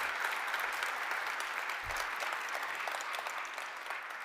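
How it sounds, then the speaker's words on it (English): Audience applause at a Mississauga walk of fame induction ceremony for the class of 2021, honoring the health service: steady, dense clapping from a large crowd, sustained throughout without speech. "give a resounding round of applause to our health service."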